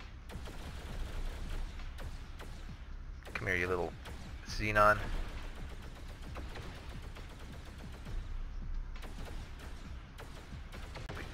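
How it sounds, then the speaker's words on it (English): Particle accelerator cannons firing at a Xenon ship in the space game X3TC, a steady rapid patter of faint weapon pulses with a couple of louder bursts, under a voice. "Starting to cause some hull damage with our big old particle accelerator cannons."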